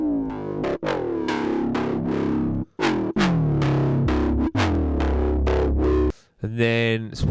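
Synthesized foghorn tones made in the Serum synthesizer: a series of loud, buzzy, distorted low blasts that each sustain for about a second with falling pitch, separated by short gaps, then a final gritty filtered burst.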